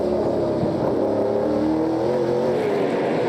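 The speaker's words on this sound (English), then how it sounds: "you can hear the revs pick up like crazy where he throws traction, but he doesn't lift" Onboard a NASCAR Pinty's Series race car at Flamboro, the engine screams loud and close, its pitch climbing steadily as the revs rise under full throttle with no lift.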